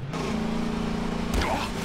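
A vehicle engine in Garry's Mod drones at a steady low pitch, close and moderately loud, with a brief rising rev near the end.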